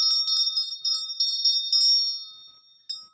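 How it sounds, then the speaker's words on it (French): Small hand bell found in a field, shaken in a quick run of bright metallic rings that trail off into a ringing decay, with one last strike near the end. "Une cloche que j'ai trouvée dans mon enfance dans un champ."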